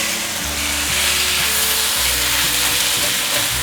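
Diced cucumber and shiitake mushroom filling for vegan steamed dumplings stir-fried in a wok, giving a loud continuous close sizzle and hiss with low steady hum underneath.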